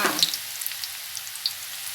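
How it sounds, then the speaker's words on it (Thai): Coarsely crushed garlic sizzles in hot olive oil in a wok, a steady bright crackle with scattered sharper pops, close and loud, no talking. "น้ำมันร้อนแล้วนะคะกระเทียมลงค่ะ"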